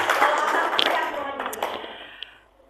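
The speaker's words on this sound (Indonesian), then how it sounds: "Tepuk tangan dulu bagi Tuhan Yesus kita" Church congregation clapping together in worship, a dense burst of many hands clapping loudly that gradually thins and fades to a few scattered claps.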